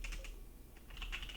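Terminal commands are typed on a computer keyboard in a quiet run of light, close key clicks, uneven in rhythm, with a short pause midway.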